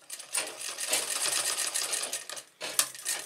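A sewing machine stitching curtain fabric runs in a fast, steady mechanical whir, close and fairly loud, with a brief pause before resuming.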